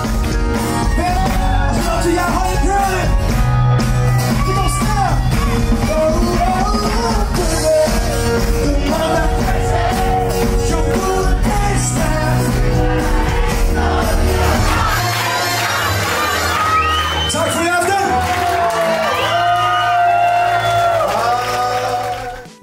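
A crowd at an acoustic concert that turned into a party, shouting, cheering and singing along loudly and continuously, with many voices overlapping and a surge of excited cries near the end.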